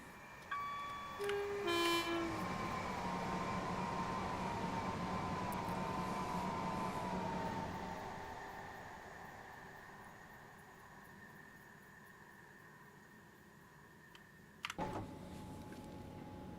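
A train passes on the rails in the Train Sim World 6 game, with a long steady rolling drone, rising tonal whines from the rails at the start, and a sharp metallic clank near the end.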